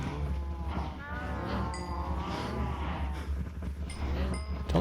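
Many cows mooing together in Minecraft, a herd of about 48, their low overlapping moos running continuously over a dense farmyard hum with occasional faint clinks.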